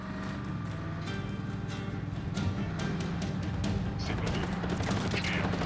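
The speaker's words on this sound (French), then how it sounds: "Ah, on me tire dessus." Rapid bursts of gunfire crackle against a tank in the Just Cause 3 video game, a dense clatter of shots over a rumbling engine that grows busier toward the end, with some speech in the mix.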